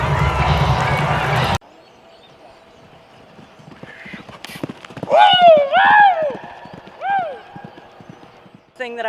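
A horse's hooves clip-clop alongside a few loud neighs and whinnies in the middle, with a burst of talking and noise at the start.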